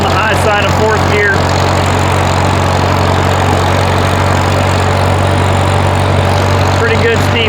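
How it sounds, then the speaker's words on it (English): A 1948 Farmall M tractor climbs a steep hill in high fourth gear with a loud, steady, laboring engine drone that fills the whole stretch. Brief voices come through over it near the start and end. "We are pulling this hill on the high side of fourth gear."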